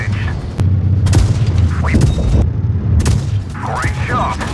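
Rapid bursts of tank machine-gun fire from the Gravedigger tank in World of Tanks Blitz, loud booming shots in several clusters over a busy game soundscape.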